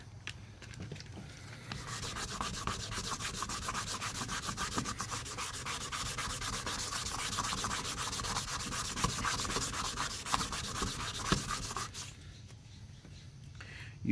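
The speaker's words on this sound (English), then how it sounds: "Keep rinsing both the sandpaper and the piece that you're sanding to polish" Steady wet scrubbing of sandpaper across a plastic headlight lens, a fast continuous rubbing rhythm held close for about ten seconds before stopping, no voices.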